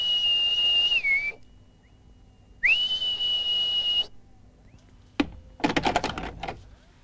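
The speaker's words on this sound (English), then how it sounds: "You've got a whistle." A steady high whistle tone sounds twice over a hissy vintage telephone line, each lasting over a second with a pitch glide, followed by a burst of clattering clicks.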